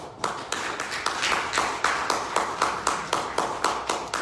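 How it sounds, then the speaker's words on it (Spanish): Steady applause from a church congregation, with sharp rhythmic claps running in a regular beat throughout, fairly close and full. "Un aplauso, Señor, hermano."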